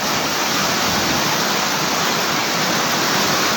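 Floodwater rushes in a steady, dense roar with no breaks, loud and close, with no voices heard.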